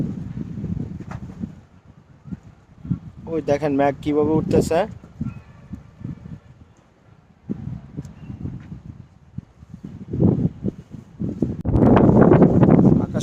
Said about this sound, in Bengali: অনেক বাতাস, অনেক বাতাসের কারণে তাকাতে পারছি না